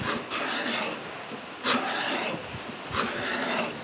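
A card scraper made from an old hand saw draws across a wooden surface, giving a dry, rasping scrape in repeated strokes, with a couple of brighter, louder passes standing out, close up and without talk.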